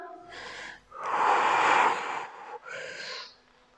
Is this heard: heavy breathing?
yes